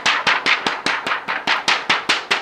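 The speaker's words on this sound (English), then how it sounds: "And now you just want to shake off the excess powder." A printed 100% cotton shirt is shaken hard to knock loose excess DTF powder, giving about a dozen sharp, loud fabric snaps and flaps in a quick, even rhythm, close by with no voices.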